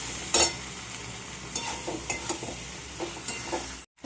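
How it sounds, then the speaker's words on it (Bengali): Boiled pasta and peas being stirred together in a pan, a spoon scraping and clinking against the metal with a soft sizzle underneath, several short stirring strokes close by, ending in a brief dropout. "পাস্তা সেদ্ধ করে নিয়েছি, দিয়ে এবার এটা দিয়ে দেবো। এবার মিলিয়ে নেবো ভালো করে।"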